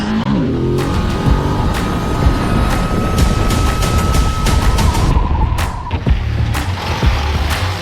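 A 2022 Ducati Desert X motorcycle engine while riding, a loud close rumble with rapid popping and crackling bursts and a brief rising tone, under continuous wind buffeting.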